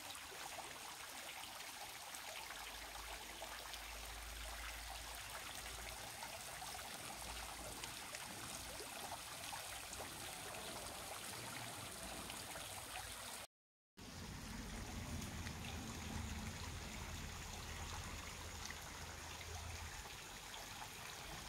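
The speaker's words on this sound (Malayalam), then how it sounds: "ഈ വെള്ളച്ചാട്ടത്തിൻ്റെ കളകള ശബ്ദവും" A babbling garden waterfall gives a steady, close rush of running water that fills the whole stretch, broken only by a brief cut near the middle. No voices are heard.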